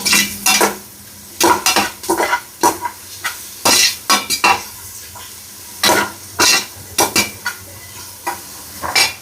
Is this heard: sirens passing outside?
no